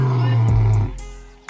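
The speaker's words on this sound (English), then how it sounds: "The lion, one of the most recognizable large animals, can roar up to 114 decibels," A lion lets out a deep, loud roar that fades into a low rumbling tail, close and powerful.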